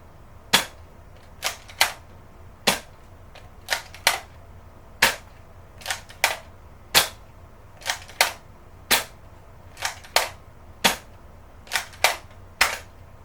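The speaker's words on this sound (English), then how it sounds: "here's the firing test for the Nerf Strong Arm" A Nerf Strong Arm blaster fires darts in a steady series of about sixteen sharp, loud snaps spaced roughly a second apart, with nothing else heard between shots.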